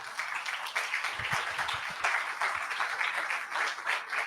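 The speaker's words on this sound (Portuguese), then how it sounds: "Dê uma salva de palmas para Jesus." A church congregation applauds during a Portuguese-language Bible study service, producing a dense, steady wash of many hands clapping close by without a break.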